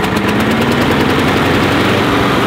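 6 horsepower Yard Machines lawn mower engine running after starting, a loud, close, steady rattling drone with rapid pulsing beats throughout.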